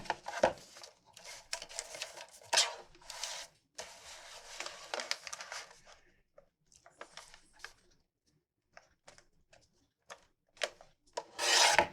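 A small handheld trimmer cuts through craft material at an art table, giving close, short rasping and scraping bursts in an irregular rhythm, separated by brief quiet gaps, with no talking.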